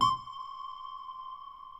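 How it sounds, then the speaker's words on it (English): A single synthesizer note strikes and then rings out as a sustained pure tone, hanging in a long, smooth reverberant tail. "by applying quite a generous reverb tail, we can end up by playing one note"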